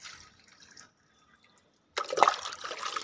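Water is poured into garden plant pots, a brief trickle and drip, then a pause, then a louder splashing pour.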